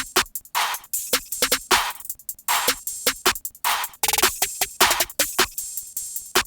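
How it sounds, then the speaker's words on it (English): A trap beat plays all of its drum sounds together, with an open hi-hat, shakers and triangle over punchy hits in a steady, busy rhythm. Loud and close, with no voices. "So all the drum sounds together sound like this."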